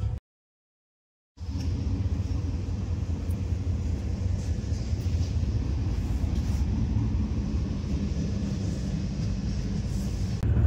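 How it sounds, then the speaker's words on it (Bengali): Steady low rumble of the Kanchan Kanya Express rolling into Barsoi Junction railway station, heard from inside the carriage as a continuous close wheel-and-track drone after a brief silent gap at the start. "আমাদের ট্রেন এখন ঢুকছে বারসুই জংশন রেলওয়ে স্টেশন"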